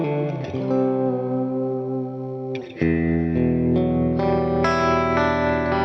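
Sustained electric guitar chords played through a reverb pedal, drenched in lush reverb and chorus, with a fresh strum near the midpoint and notes ringing into a long, washy tail.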